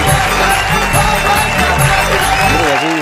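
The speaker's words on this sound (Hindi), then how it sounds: "जोरदार ताली से स्वागत करें।" At a Hindi kavi sammelan, an audience applauds to welcome a poet, with steady crowd clapping and noise under a music bed and a voice, loud throughout.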